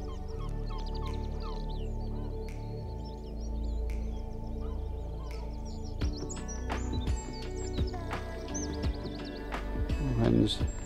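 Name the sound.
wrens singing and gulls calling at a bog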